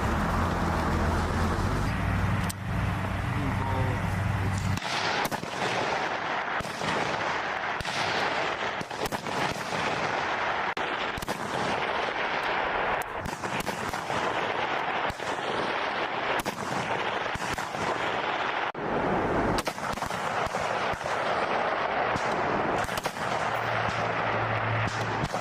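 Rapid rifle gunfire from the video game PUBG, a dense, loud run of shots packed close together and continuing for most of the stretch after a brief opening of other game sound.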